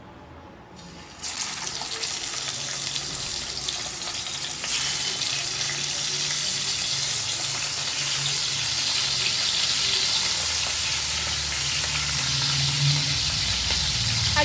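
Fish frying in hot oil in a Bengali home kitchen: a loud, continuous sizzle with crackling spatters. It surges in after a quiet second and keeps hissing steadily for well over ten seconds, with no talking.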